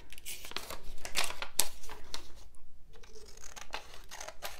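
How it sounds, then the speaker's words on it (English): Close, crisp scissor cuts through paper or plastic, a series of sharp snips with crinkling in between, loud and uneven in rhythm. "Scissors."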